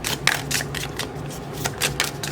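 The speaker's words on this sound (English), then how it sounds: "Nope, we're going to shuffle." Cards riffled and shuffled for a pick-a-card tarot-style reading with a Lavender Love Dreams deck, a run of crisp papery bursts, close and fairly quiet, with no talking.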